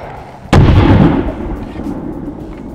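A single sharp, loud gunshot is fired into a Learjet windshield, a sudden blast followed by a short rumbling decay and faint room noise.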